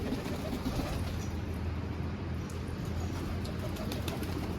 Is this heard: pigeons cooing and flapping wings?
yes